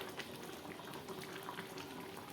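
Eggplant, potato and small mourala fish simmer in a covered pot, a faint, steady bubbling burble with soft liquid pops throughout.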